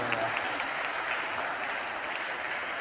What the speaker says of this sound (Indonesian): Tepuk tangan lagi ke sini ke Brother.